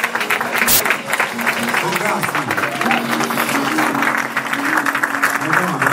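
A congregation claps during a church service, a continuous wash of applause with a voice speaking and tonal sounds over it throughout.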